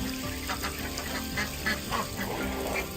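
Water pours steadily into a pool set out for backyard ducks, a continuous splashing wash with ducks quacking close by.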